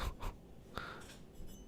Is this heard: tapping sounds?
yes